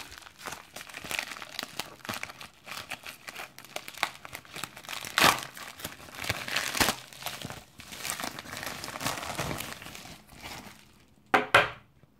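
Packing tape is pulled and torn off a mail package close by, with continuous crinkling and ripping and a louder rip near the end.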